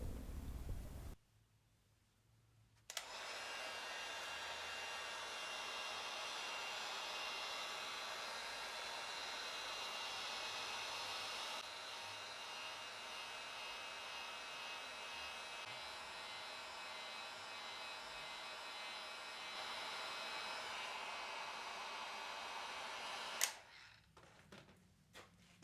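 Heat gun blowing a steady, loud airy rush as it warms the belly of an Osage orange selfbow for a bend correction, starting abruptly after a brief lull and cutting off near the end.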